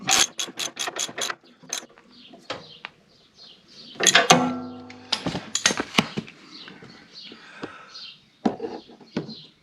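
A ratchet tightens a bolt on the 48-inch mower deck of a John Deere L120, sounding as quick, close, rhythmic clicking runs broken by pauses, with a few metallic clanks and birds faintly chirping outdoors.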